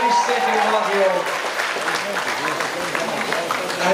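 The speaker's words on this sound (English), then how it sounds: "And away goes David Scott, everybody's cheering" Crowd cheering and applauding at a sheep shearing competition at an agricultural show, a steady dense wash of clapping and voices that stays loud throughout, with speech mixed in.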